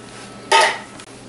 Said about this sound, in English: put in your second can of tomatoes